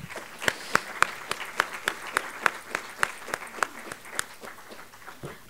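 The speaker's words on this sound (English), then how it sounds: "Can we have a huge round of applause for sir?" Audience at a wildlife filmmaking masterclass in India claps for the speaker, a modest group of separate, distinct handclaps in a fairly regular rhythm, close and clear, with no talk.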